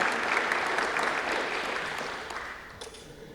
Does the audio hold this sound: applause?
yes